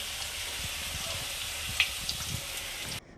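Oil and potatoes fry in a wok with a steady, dense sizzle and a few small pops and spits, close and continuous until the sound cuts off near the end.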